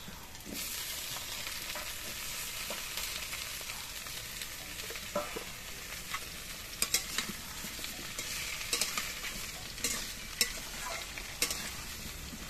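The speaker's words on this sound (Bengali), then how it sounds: "এবার এগুলোও কিন্তু কিছুক্ষণ ভেজে নিতে হবে।" Potatoes, raw banana and drumstick pieces fry in a pan with a steady, close sizzle, broken now and then by sharp scrapes and clinks as they are stirred; no one speaks.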